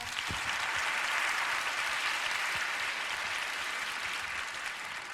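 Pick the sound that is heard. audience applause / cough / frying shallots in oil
audience applause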